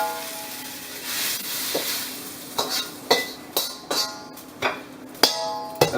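Velveted beef stir-fried in a wok, a soft background sizzle broken by a run of sharp metallic scrapes and clanks of a spatula against the pan, irregular and close.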